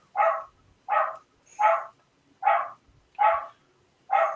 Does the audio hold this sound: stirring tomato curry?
no